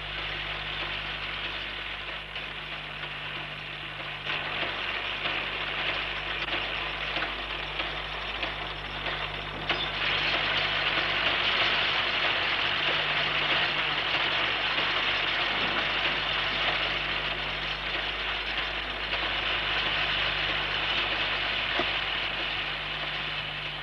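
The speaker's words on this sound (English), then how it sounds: "these Mrs. Patterson winds on an electrically operated bobbin winder" An electrically operated bobbin winder loading shuttle bobbins with wool for tweed weaving on the Isle of Lewis, a steady whirring hum with faint hiss running continuously at moderate level, slightly louder partway through.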